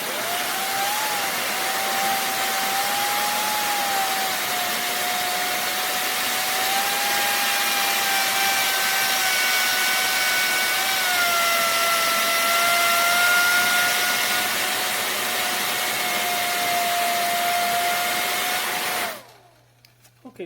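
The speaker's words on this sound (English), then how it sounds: "we'll just give it another whirl at the high speed" A Laifen Swift hair dryer runs at high speed with a diffuser fitted, giving a steady, loud, whining airflow hum for nearly twenty seconds before switching off abruptly near the end.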